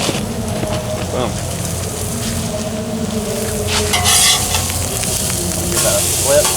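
Seasoned potatoes fry in a pan with a steady crackling sizzle, stirred and flipped with scraping clatter, a close and continuous hiss lasting several seconds with brief louder spatters, and someone talking briefly in the background.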